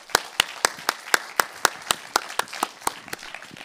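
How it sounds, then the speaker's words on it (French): Audience at a French academic round-table discussion applauds, with sharp, evenly spaced claps standing out clearly over a softer, steady patter of clapping. "Je pense que vous méritez de chauds applaudissements."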